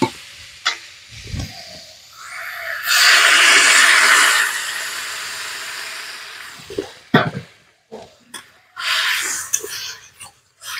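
Water goes into a hot pan of spice-fried potato and cauliflower, setting off a loud hissing sizzle that swells for a few seconds and then settles, with clattering stirs and bumps before and after.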